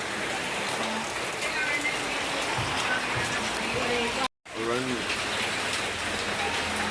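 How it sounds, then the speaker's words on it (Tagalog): Dense, steady heavy rain from a storm pours throughout, a constant loud hiss of water, with a person speaking briefly over it and one short dropout. "Ayan yung bagyo guys."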